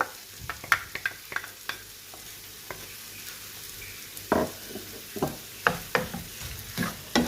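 Beef liver being cooked masala-style in a pan as yogurt goes in, with a soft steady sizzle beneath repeated scraping and clanking strokes of a spoon stirring the mixture, close and clear.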